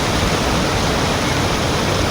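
Water runs strongly along a full canal, a dense close rushing roar that holds steady and loud for the whole short stretch.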